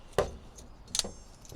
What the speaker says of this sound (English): Let's test out the spring legs real quick.